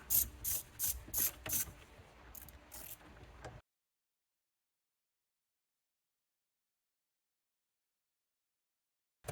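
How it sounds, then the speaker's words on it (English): A ratchet with a 10 mm socket loosens a steering wheel airbag bolt on a Dodge Grand Caravan, giving rapid close clicking bursts for about three and a half seconds before silence. "just be able to get our 10 millimeter socket in there and go in the anti-clockwise to loosen and remove the bolt"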